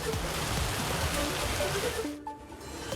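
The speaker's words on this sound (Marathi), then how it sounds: "पंढरपुरात वादळी वाऱ्यासह मुसळधार पाऊस" Heavy rain with stormy wind pours down in Pandharpur as a dense, steady hiss for about two seconds, then breaks off abruptly into a much quieter patch.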